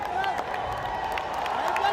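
Stadium crowd at a Big Cricket League match between Northern Challengers and Southern Spartans, a steady roar of cheering and clapping spread evenly across the whole stretch, broad and distant-sounding.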